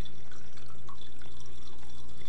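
Water runs from a kitchen tap into a drinking glass, a continuous close trickle and splash over a low steady hum.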